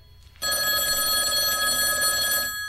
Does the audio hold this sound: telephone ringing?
yes